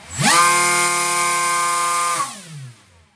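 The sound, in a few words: RC motor spinning a 7.5-inch 3-bladed 3D printed propeller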